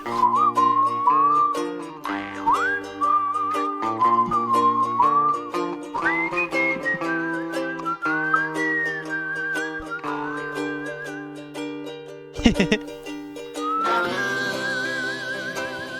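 Melodic whistling plays a bouncy, sliding tune over the Rayman Origins video game music, with sustained backing chords and a brief percussive burst near the end.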